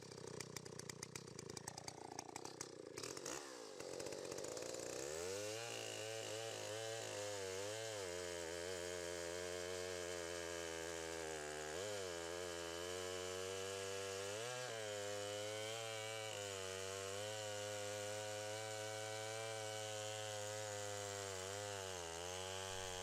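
A chainsaw engine roars close by during factory performance testing, its pitch rising and falling as the throttle is revved repeatedly over a sustained run.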